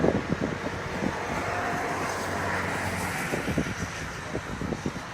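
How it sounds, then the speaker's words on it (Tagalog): Strong wind blows outdoors at Tagaytay overlooking Taal Volcano, a continuous rushing buffet against the microphone with gusty low thumps, fairly loud and with no voices. "Mahangin ngayon"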